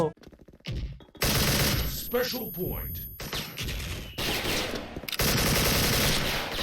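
Rapid AK-74 automatic rifle fire in a video game rattles in long, loud bursts separated by short gaps, with a voice speaking briefly during a lull.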